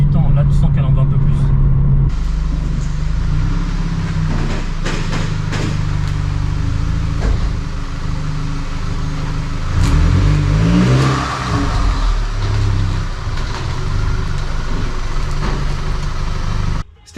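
A car running on ethanol fuel strapped to a dynamometer test bench, its engine idling and then revving with rising and falling tones, loud and close, while people talk over it.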